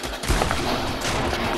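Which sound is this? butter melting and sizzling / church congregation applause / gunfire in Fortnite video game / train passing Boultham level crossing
gunfire in Fortnite video game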